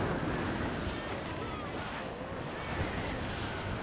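Wind and rough seas roar steadily while a sailing ship cuts through the water in the pirate game Assassin's Creed IV Black Flag, a dense, continuous rush of surf and gusting air with no break.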